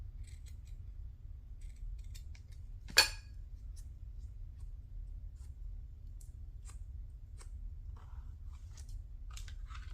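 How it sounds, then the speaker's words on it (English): One crisp snip of scissors cutting through fabric, close and isolated against a quiet low hum, with faint rustling of the cloth around it. "I'm going to go ahead and just cut this and then kind of pull the fabric apart a little bit."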